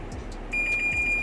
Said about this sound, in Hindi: आप देखेंगे एक ना बीप की साउंड आएगी